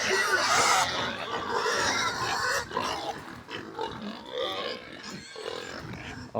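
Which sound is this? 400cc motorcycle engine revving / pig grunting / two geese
pig grunting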